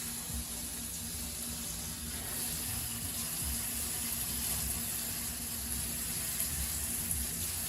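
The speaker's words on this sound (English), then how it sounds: "rinse the pasta off with cold water" Cold tap water gushing in a sink to rinse cooked, strained pasta, a steady, full rushing stream that holds at the same loud level throughout with no voices.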